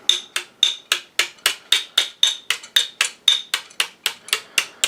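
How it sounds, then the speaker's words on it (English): Small tack hammer taps in a steady, even rhythm, about sixteen sharp metallic strikes at close range with no talking. "I like this tack hammer"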